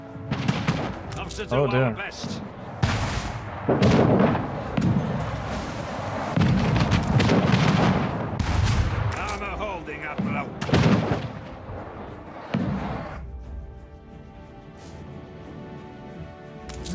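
Gunfire and artillery booms in an Anno 1800 naval battle, dense volleys of shots and blasts that thin out toward the end, with someone briefly talking over the combat.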